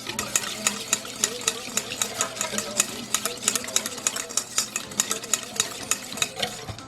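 A twisted-donut dough mixture with egg stirred briskly in a bowl, producing a steady rapid rhythm of close clicking and tapping strokes of a utensil against the bowl, moderately quiet.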